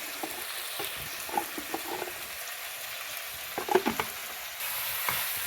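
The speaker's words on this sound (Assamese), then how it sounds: "ইয়াতে লাহেকৈ লৰাই দিছোঁ এতিয়া মাংসটো" Pork sizzles in a frying pan while it is stirred slowly, giving a steady crackling fry with scattered scraping and clinking stirs up close, with no talking.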